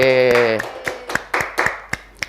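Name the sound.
students clapping hands in a classroom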